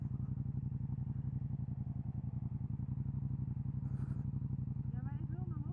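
A Yamaha MT-07 motorcycle engine pulses in a steady, close, loud rhythm while riding, with a brief voice breaking in midway.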